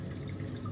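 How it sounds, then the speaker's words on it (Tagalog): Rice being washed in water, a continuous close splashing and swishing of water with faint trickles and drips, steady throughout with no voices. "So, this is the 6th time na paghugas ng bigas."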